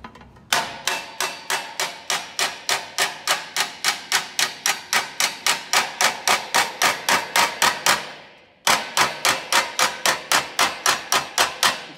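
A hand hammer taps out small dents in a car body panel, a fast, even series of sharp metallic blows, close and loud, pausing briefly before resuming at the same pace.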